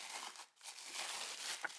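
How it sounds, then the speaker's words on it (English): Wrapping being torn off a new tarot card deck, a steady crinkle and rustle of plastic or paper that runs almost throughout, with a brief pause midway and a sharper crackle near the end, close and fairly quiet. "let's just unwrap this deck"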